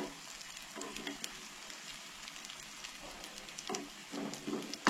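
Cutlets frying in a pan as a monsoon snack, a steady faint sizzle and crackle with scattered pops, close and continuous with no talk.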